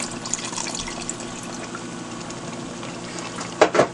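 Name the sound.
pouring half a cup of water into pepper steak sauce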